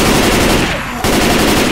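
AR-15 rifle fire in Left 4 Dead 2, loud continuous rapid shooting with a brief pause in the middle before the firing resumes.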